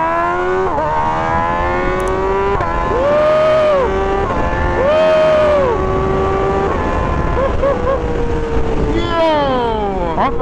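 Multistrada V4 RS or M1000 XR motorcycle engine revving loudly and steadily, pitch rising and falling through repeated throttle blips over about ten seconds, with a voice talking faintly underneath.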